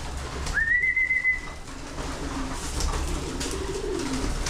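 Pigeons at a loft during trapdoor training coo in low, soft, throaty rolls near the middle and end, preceded by a short bright whistle, over steady background hum.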